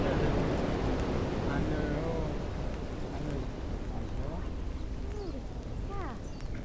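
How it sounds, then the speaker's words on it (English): Steady rain falls at Wailea Beach on Maui as a dense, constant hiss. Faint chirping tones and a low rumble sit beneath it throughout. "Here comes the rain."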